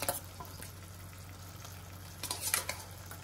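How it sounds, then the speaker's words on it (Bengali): Prawns stir-frying in a spiced masala for prawn curry, a steady low sizzle with intermittent scraping and stirring of a spatula against the pan, close up and without speech. "চিংড়ি মাছগুলো দিয়ে এবার ভালো করে এটাকে কষাতে হবে।"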